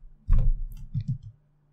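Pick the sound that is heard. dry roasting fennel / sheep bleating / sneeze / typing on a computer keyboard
typing on a computer keyboard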